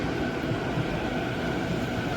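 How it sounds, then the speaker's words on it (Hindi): A Navi Mumbai Metro train arrives at a station, producing a steady, rumbling rail drone with a faint sustained whine, moderately loud and continuous for the whole stretch, with no talking. "फाइनली नवी मुंबई मेट्रो आ चुकी है"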